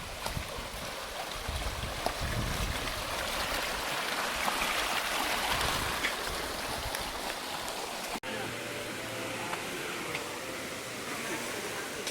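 Water of the Calinawan River flowing over rocks, a steady broad rushing wash that runs throughout, with brief faint handling noises near the end.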